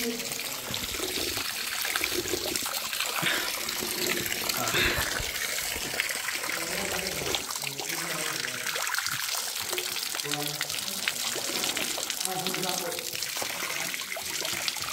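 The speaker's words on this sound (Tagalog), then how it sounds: "May gripo." Water runs steadily from a faucet at a mountain water source on Mt. Kitanglad in Bukidnon, Philippines, a continuous close splashing trickle with people talking intermittently over it.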